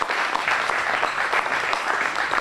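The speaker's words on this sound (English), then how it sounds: "let's give everybody a round of applause for such good stories tonight." Full audience applause at an evening storytelling event, loud and continuous with dense clapping throughout and no talk over it.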